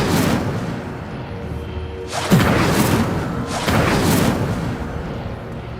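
Incendio fire spell cast in Hogwarts Legacy: whooshing, booming bursts of flame, one near the start and two stronger blasts midway, each a broad roaring rush that swells and fades.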